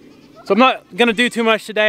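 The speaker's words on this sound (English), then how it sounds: "I'm sure you can hear the goats all crying." Hungry pregnant goats on a farm bleat in a run of several nasal, wavering cries close by, overlapping with a person speaking.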